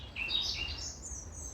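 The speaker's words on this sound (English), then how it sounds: "just listen to them birds out singing." Birds singing outdoors on a mild January day, a few high thin chirps and whistled notes at moderate distance over quiet low background noise.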